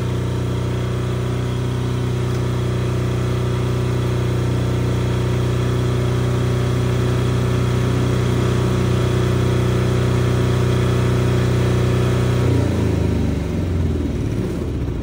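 A Philking 10000STRA diesel silent generator running at a house, a loud, steady close-up hum with strong low tonal drone that shifts and drops near the end.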